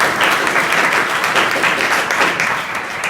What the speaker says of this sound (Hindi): सुनीता जी के लिए जोरदार ताली।